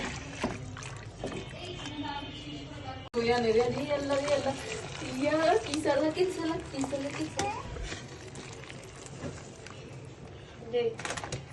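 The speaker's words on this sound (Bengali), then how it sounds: "গরম পানিটা দিয়ে দিলাম।" Hot water poured into a simmering beef trotters curry (nihari), a continuous close splashing gush that runs for several seconds and then fades as the pour ends, with voices present over parts of it.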